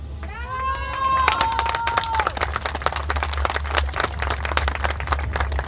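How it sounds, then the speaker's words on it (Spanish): Crowd applause at a Mexican charrería event rings out as scattered, crackly claps over a steady low hum, following a brief tonal whistle-like sound at the start, and continues evenly for several seconds. "les brindemos un aplauso a estas personas que de buena fe nos han apoyado para hacer este evento"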